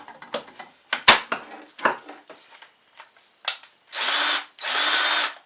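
A cordless drill drives a grease gun, first in a series of short clicky bursts and rattles, then in two sustained whirring runs near the end, all close and clear.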